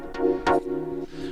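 A jazzy chord synth for minimal house, its envelope set with a low attack, plays two quick harmonic chord stabs with a sustained tail ringing on alone.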